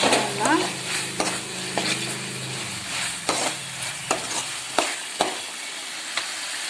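Drumstick kara kuzhambu being stirred in a pan, with repeated scraping strokes of a spoon and a soft sizzle underneath, steady and close with no talking.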